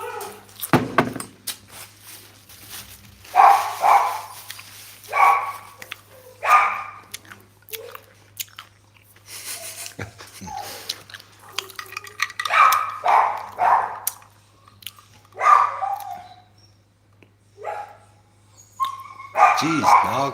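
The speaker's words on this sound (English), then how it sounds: "Chó hồn quá. Không làm gì mà cũng sủa." Dogs barking in short repeated bursts, with several sharp yaps and barks spread irregularly over the clip, moderately near, with a low steady hum underneath and faint talk between them.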